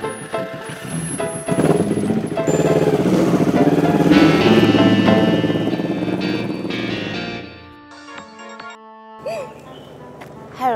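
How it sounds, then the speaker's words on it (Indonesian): A motorcycle revs and rides off, its engine loud and rumbling for several seconds before it fades and drops away, leaving quieter tonal sounds near the end. "saya naik motor sendiri ya, Kong."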